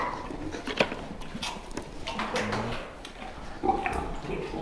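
A sow standing in a farm pen drinking water, with soft snuffling, grunting and shuffling close by at low volume over a rustling barn background.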